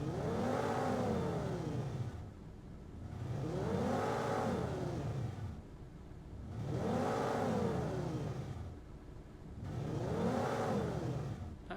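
A synthesized robot engine built in Krotos Igniter sweeps up and down through its revs in four smooth, even cycles, loud and close with no voices.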